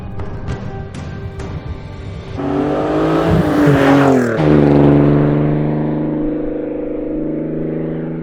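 Several Alfa Romeo 156 GTA cars with Busso V6 engines idle and then rev loudly as they pull away on a freezing road, a deep rising engine roar close by that settles into a steady drone.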